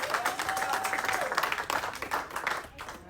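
A church congregation applauds and cheers in praise of God during a Sunday worship service, a steady wash of clapping with voices and a sustained sung or shouted tone rising above it for the first second.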